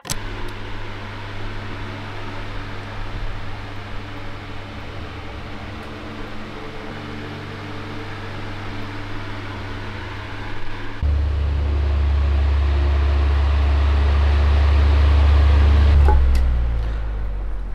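An electric fan whirs steadily at close range in a hot room, with a deeper hum swelling partway through before the sound drops off as it is switched off.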